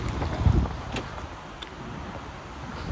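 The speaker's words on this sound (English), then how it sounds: "Sorry about the wind because it's super cold." Cold wind gusting straight into a microphone outdoors, a loud rumbling buffet that peaks early, then settles into a steady rush that swells again at the end.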